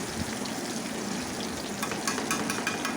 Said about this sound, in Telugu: చక్కగా ఒక పక్కన ఫ్రై అయిన తర్వాత రెండో పక్కన మనం మళ్ళీ టర్న్ చేసుకుందాము